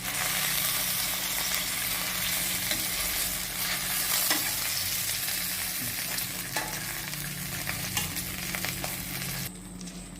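Two tomatoes frying in a pan of hot oil, a steady close sizzle and crackle running throughout with occasional stirring clinks, dropping slightly near the end.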